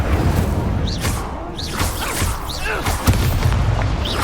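Spell-casting effects from Hogwarts Legacy combat, with an Incendio fire spell among whooshing bursts and thuds layered over continuous game noise, several swishing casts in quick succession.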